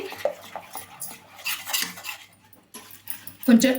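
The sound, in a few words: stirring gram flour ladoo mixture with sugar in a pan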